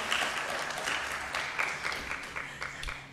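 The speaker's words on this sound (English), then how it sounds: "Give yourselves a round of applause, everybody" A church audience at a music and poetry service gives a moderate round of applause, many hands clapping steadily at a slight distance, the sound thinning a little toward the end.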